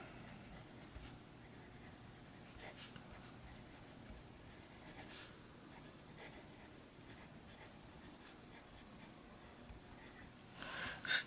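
Fountain pen fitted with a JoWo number 6 nib writing on paper, a faint, steady scratchy glide with a few light taps and strokes, ending in a brief louder rustle.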